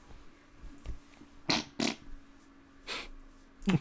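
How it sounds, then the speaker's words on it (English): Several short breathy bursts of fart-like noise, a few isolated puffs spaced across a few seconds, close to the microphone in an otherwise quiet room. "What'd you fart?"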